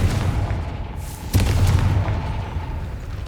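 In the game Hogwarts Legacy, a Confringo fire spell bursts with a single deep, heavy boom midway, set against a steady rumbling game soundscape; no talking.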